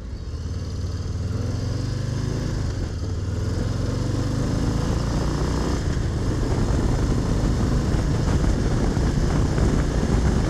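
Lowrider ST motorcycle engine cruising on a freeway into a headwind, a continuous loud drone blended with rushing wind noise throughout, close and steady with no talk.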